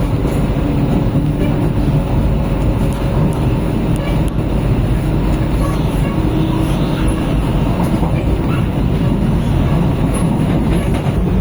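A Vande Bharat Express on the Madurai–Bangalore route, heard from inside, gives a steady loud rumble of wheels and rail noise throughout, with faint clatter and no clear rise in speed.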